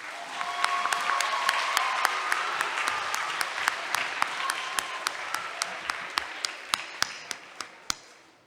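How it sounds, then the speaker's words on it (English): A room full of people applauds steadily, with dense clapping and a few sharp individual claps standing out, tapering off toward the end. "give special applause as well"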